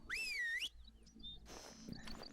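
A whistle in theHunter: Call of the Wild hunting game: one clear, bending whistle tone lasting under a second, followed by softer scattered game sounds.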